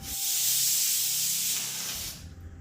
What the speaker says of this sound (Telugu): దీనికి సరిపడా వాటర్ పోసుకుని 3 విజిల్స్ వచ్చే వరకు కుక్ చేసుకోండి